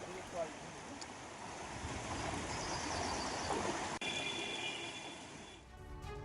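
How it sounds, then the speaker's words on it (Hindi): Floodwater overflowing and rushing across roads in Tikamgarh after heavy rain, a loud, continuous broadband roar of churning water with wind buffeting the microphone, steady throughout. "सड़कों पर पानी ओवरफ्लो हो रहा है"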